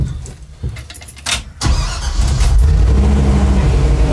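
A 1973 International Scout II engine cranks in short bursts, then catches and settles into a loud, steady idle with a rough rumble.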